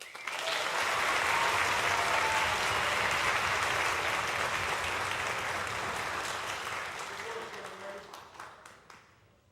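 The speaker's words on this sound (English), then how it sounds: "Give her another big round of applause." A crowd at a junior high morning performance during a university summer music camp gives a long, full round of applause that swells, holds, and then gradually thins out toward the end, with a few individual claps trailing off.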